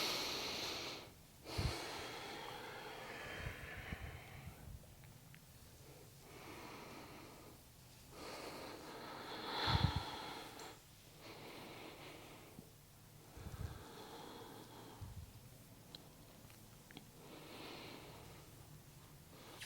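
Slow, audible breathing during a mellow yoga stretch session, long inhales and exhales with occasional sharper nasal breaths, close and quiet over faint rustling, no talking.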